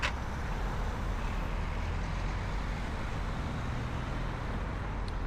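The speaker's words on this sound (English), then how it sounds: "So the lorry hasn't got signal on." A lorry driving near a roundabout, heard as a steady, loud broadband road and engine rumble from passing traffic, continuous without pauses and with no talking.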